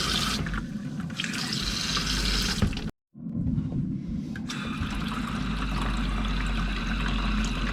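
Water gushing hard from a faucet in an old RV after calcium buildup was cleared from the water system. The strong, steady rush cuts out for a brief moment, then returns just as loud.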